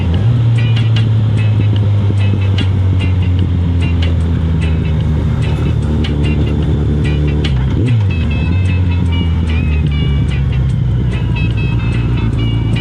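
Steady engine drone from a motorcycle being ridden through dense Little Saigon traffic, loud and close throughout, with a brief dip and shift in engine pitch partway through and other vehicles sounding around it.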